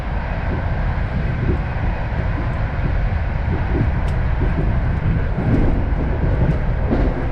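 A passenger train running on rails on a trip to Lower Silesia in autumn, heard as a steady, loud rumble with rhythmic low thumps from the wheels that continues throughout, with no talk.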